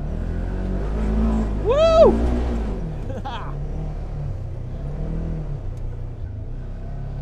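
Off-road Subaru Crosstrek Wilderness or Polaris General engine revving hard in four-wheel drive high while climbing a hill in a gravel pit. It gives a steady loud rumble throughout, with a voice shouting briefly over it.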